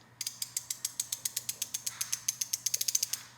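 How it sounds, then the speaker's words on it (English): A 60-tooth ratchet wrench clicks close up in a quick, even series of about two dozen crisp ticks that speed up slightly toward the end, with no voices. "Here are the ratchets. I believe they're 60 tooth."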